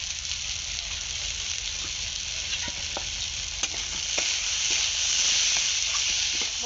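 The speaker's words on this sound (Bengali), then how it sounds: "মশলার সঙ্গে আলু ভালোভাবে কষানো হয়ে গেছে।" Potatoes frying in a pan with salt, turmeric and chili powder, sizzling in a steady hiss, with soft spatula scrapes and taps of stirring repeated throughout at close range.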